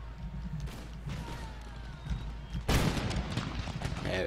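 Grenadiers firing a musket volley in Empire: Total War, a single heavy crackling blast of many muskets at once, breaking out after quiet battlefield ambience and trailing off into rumble.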